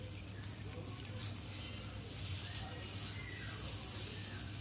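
Boiled pasta, already mixed with chopped egg, is stir-fried in a pan, giving a soft, steady sizzle under a hiss, with faint scraping as it is moved around.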